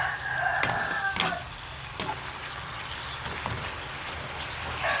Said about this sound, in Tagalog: Haluin po natin yan.